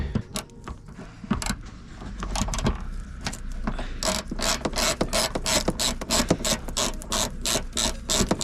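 A ratchet fitted with a Torx bit clicks steadily while loosening bolts near the wheel and light of a rusty, cheap Alfa Romeo, the pawl's rapid ticking loud and close in repeated bursts with no voices.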